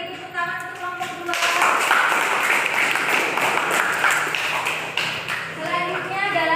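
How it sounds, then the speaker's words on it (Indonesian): A class group gets clapped for by the room after a presentation, a loud burst of many hands lasting several seconds, with voices talking just before it starts and again as it fades. "beri tepuk tangan untuk kelompok 2."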